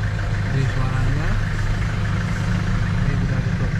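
A Toyota Innova Zenix gasoline engine idles steadily with the window open, giving a constant low hum and mild road-ambient texture throughout, loud and continuous with no pauses.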